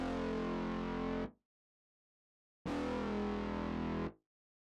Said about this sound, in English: this bass is called TUC Doomsday Bark